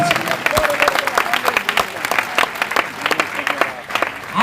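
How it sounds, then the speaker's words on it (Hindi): Congregation applauding loudly at an evening Christian convention gathering, a dense, sustained clapping from a large crowd that carries on steadily throughout. "ताली बजाकर जोरदार प्रभु का धन्यवाद को आप धन्यवाद दीजिए।"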